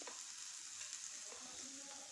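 Cut pieces of parotta fry on a nonstick tawa, giving a soft, steady sizzle and hiss with faint stirring scrapes, quiet and close with no voices.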